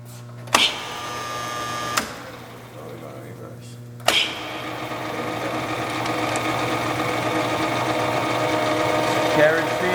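A South Bend Heavy 10 metal lathe, 10 by 36 inch, wired for 208-volt three-phase with a D14 four-jaw chuck, runs under carriage feed: a few sharp clunks as levers engage, then a steady close mechanical whir and hum.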